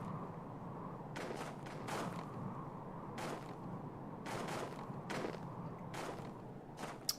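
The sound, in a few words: explosion in video game EFU Persistent World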